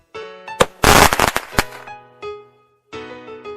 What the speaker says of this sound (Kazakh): Отшашу.